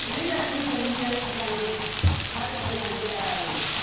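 Chicken sizzles steadily as it is mixed into frying onion masala in a pan, with a soft stirring knock partway through.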